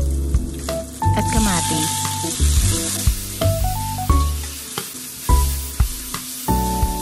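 Garlic, onion and tomato sizzle steadily in hot oil in a pan, with a constant frying hiss broken by clattering spatula strokes; a voice speaks briefly.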